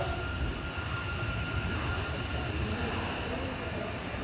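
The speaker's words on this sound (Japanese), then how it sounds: "電車が止まりましても連結作業のためもう一度動きます" A Hanshin train rumbles along slowly while moving for coupling, with a low, continuous roll of wheels on track, steady and fairly quiet.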